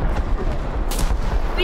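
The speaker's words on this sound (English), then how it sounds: "I'm getting shot at!" Video game gunfire crackles as loud, continuous bursts of shots and explosions, a dense battle din that fills the whole stretch with a sharper burst partway through.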